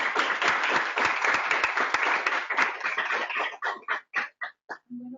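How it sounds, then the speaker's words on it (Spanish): Applause from an audience at the close of a talk on migration, dense clapping at first that thins into a few scattered claps and fades out, followed by a brief voice at the end. "terminaríamos dando un fuerte aplauso"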